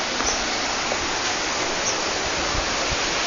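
Water rushes steadily down a waterfall stream after a high mountain climb, a dense, continuous broadband roar that stays close and even throughout with no other sounds standing out.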